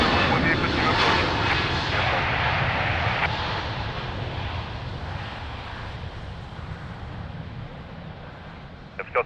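Aircraft roaring at Lisbon Airport in rain and wind, a loud broad engine rumble that slowly fades over several seconds, with radio voices faintly present.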